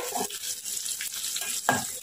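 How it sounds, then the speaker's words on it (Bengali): Chopped onion and green chili fry in a pan after white cumin goes in, making a continuous close sizzle with a few scraping stirs, no voices. "পেঁয়াজ দিলাম এটা কাঁচামরিচ দিলাম দিয়ে এগুলো একটু ভাজা ভাজা হবে"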